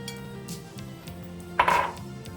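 A utensil clinks and scrapes against a bowl while soup ingredients, including black pepper and Parmigiano Reggiano, are mixed; soft scraping leads to a brief, sharper clatter near the end, close by with no talking.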